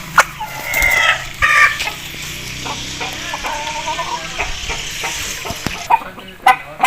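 Aseel roosters cluck and crow close by in a farmyard, with a few loud crows rising over steady clucking and scattered fowl calls.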